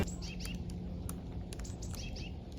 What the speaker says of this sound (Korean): 봄맞이 새소리도 들리고